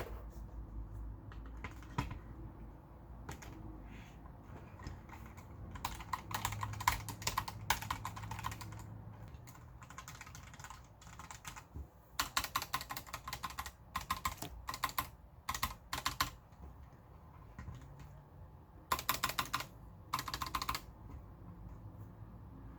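Typing on a Logitech G815 keyboard, with bursts of quick key clicks and clacks alternating with short pauses, close and fairly quiet, with no talking.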